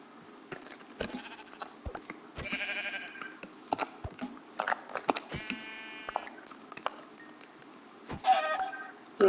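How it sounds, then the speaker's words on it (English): Animal noises play in the Minecraft video game, with chickens clucking, bleats mixed in and clicky footstep sounds, all close and moderately loud, with no talking. "Might as well just kill the chicken."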